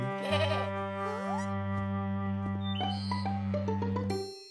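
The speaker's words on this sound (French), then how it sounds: "N'aie pas peur, Mousseline, c'est des moutons." Sheep bleat in drawn-out, wavering calls over light background music with bell-like tones.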